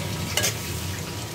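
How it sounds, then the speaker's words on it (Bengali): Chopped onions hit hot oil in a heated pot, giving a brief, steady close-up sizzle with a faint crackle and no talking. "আমি পেঁয়াজ কুচিগুলো দিয়ে দেব।"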